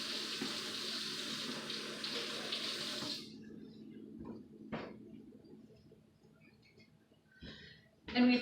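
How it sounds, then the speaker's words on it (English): Hands rinsed under a running kitchen tap in a home kitchen, a steady broadband water rush for about three seconds, then stopping, followed by a few faint clicks and knocks. "I'm going to turn around and give my hands a quick wash."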